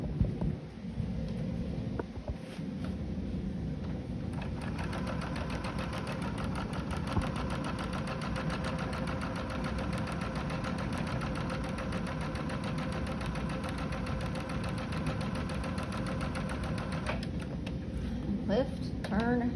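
A sewing machine stitches a quarter-square triangle quilt block, giving a fast, continuous mechanical whir with a rapid rhythmic patter that runs close and steady almost throughout.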